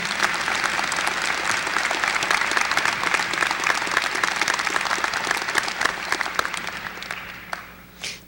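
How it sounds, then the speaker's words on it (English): A commencement crowd gives sustained applause for a guest speaker. Dense, even clapping fills the space for several seconds before thinning out and fading at the end. "Could we please have one more round of applause for our wonderful speaker today"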